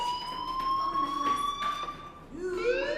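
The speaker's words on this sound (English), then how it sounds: "do you hear that fire alarm? That means you should be outside." A school fire alarm in Life Is Strange sounds as a rising electronic wail with a held tone, then starts a new sweep near the end, loud and close with no voices.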